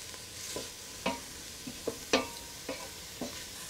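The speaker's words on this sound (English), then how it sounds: "cook everything here for about 5 minutes on low heat, stirring from time to time." Leeks and chopped vegetables cook gently over low heat in a pot, with a soft steady sizzle beneath repeated spoon scrapes and stirring knocks about every half second, close and fairly quiet.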